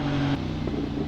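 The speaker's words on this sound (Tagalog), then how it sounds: "Traffic eh, traffic." A motorcycle rider idles in night city traffic, with a steady engine hum and nearby car engines droning close by through the short stretch, and no talking.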